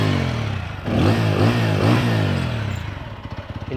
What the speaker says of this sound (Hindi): आइडियल कंडीशन पर इंजन साउंड सुनिए, एग्जॉस्ट नोट सुनिएगा।